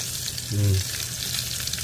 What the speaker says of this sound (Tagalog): Lagay na natin yan, hipon na yan, malalaking hipon oh.